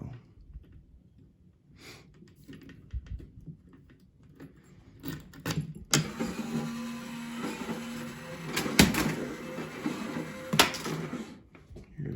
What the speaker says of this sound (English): it makes their own row of the vending machine turn